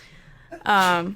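A single loud sneeze bursts out after a brief quiet intake of breath, close and voiced with a strong tonal quality.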